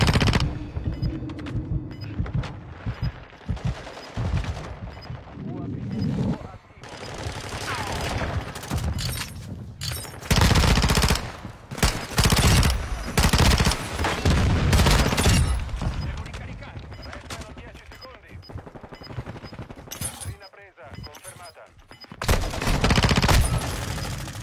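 Rapid automatic gunfire from a video game, bursts of machine-gun fire and overlapping volleys running nearly continuously and loud, with brief lulls, while players talk over it.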